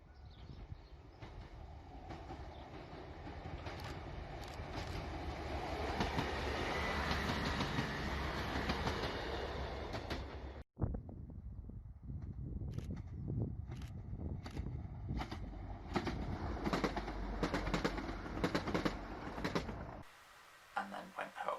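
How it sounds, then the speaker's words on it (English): Trains roll past a golf club outdoors, a sustained rumble with clickety-clack rising and fading over about ten seconds, then a second passage with rhythmic wheel clatter and a few bird calls in the open air. "got a couple trains going past"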